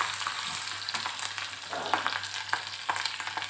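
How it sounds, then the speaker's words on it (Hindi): Ginger garlic paste and chopped green chilies fry in a pan for Sindhi dal pakwan, giving a continuous close sizzle broken by periodic stirring scrapes, with no talking. "इस टाइम हम इसमें डालेंगे ये अदरक लहसुन का पेस्ट और साथ में डाल देंगे हरी हुई कटी हुई हरी मिर्च और थोड़ा सा इसे फ्राई करेंगे"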